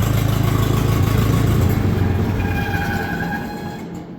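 A Case 730 LP tractor engine runs loud and close with a steady low rumble, then winds down and fades as it shuts off.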